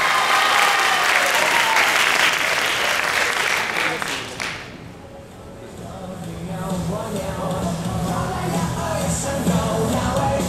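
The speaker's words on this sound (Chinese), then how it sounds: "该尖叫的时候尖叫一下，该拍手的时候拍手一下" At a club anniversary show, an audience claps and cheers loudly for several seconds; the clapping fades, then a voice talks over quieter crowd murmur.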